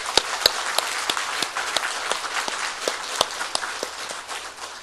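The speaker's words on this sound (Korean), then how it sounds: "영광의 박수를 하나님 앞에 올려드리겠습니다" A church congregation applauds together during a Sunday service in Bucheon, South Korea, a fairly loud burst of rhythmic, unified clapping in steady beats filling the room, with no talking over it.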